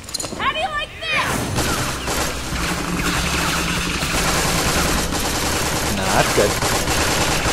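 Rapid machine gun fire in Borderlands, dense rattling bursts that run loud and continuous through a hectic firefight, with voices shouting over the shooting.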